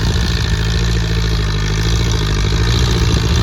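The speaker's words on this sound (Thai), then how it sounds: "สำหรับรถสี่สูบนี่ เสียงมันกระหุ่มดีเนาะ" A four-cylinder car engine runs steadily up close. Its loud, throbbing idle holds even throughout, with no voices.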